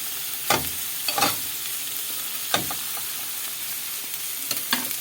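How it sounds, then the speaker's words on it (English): Burger patties sizzle steadily in a hot frying pan after being flipped, with a few short scraping and clattering bursts from a spatula over the constant frying hiss. "flip the patties."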